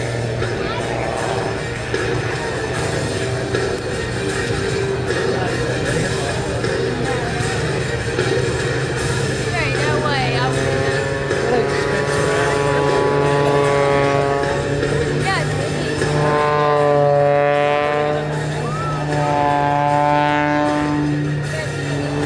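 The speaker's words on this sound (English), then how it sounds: "Coming up into the cockpit, Rob continues into the vertical to set up for his rolling spin" An MXS aerobatic airplane pulls into a vertical climb for a rolling spin at the 2017 Gulf Coast Salute airshow. Its loud, steady engine drone shifts in pitch throughout, and someone narrates over it.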